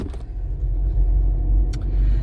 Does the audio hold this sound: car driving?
yes